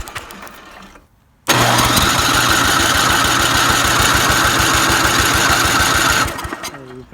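A 2002 Ariens 824 snowblower engine that sat about 13 years, primed with ether down the spark plug hole, fires after a brief hush and runs loud and rough with a rapid throb for about five seconds before dying away.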